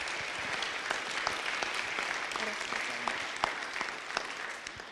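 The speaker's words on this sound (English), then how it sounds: "So let's get a round of applause for them," A church congregation applauds local rodeo contestants, a steady wash of many hands clapping throughout at moderate distance, with a few sharper individual claps standing out.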